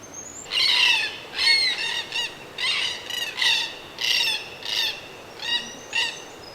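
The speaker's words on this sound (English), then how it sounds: "Absolutely magnificent birds." Several large birds squawk outdoors, loud harsh calls coming in a rapid series of about ten bursts close by, with no talk over them.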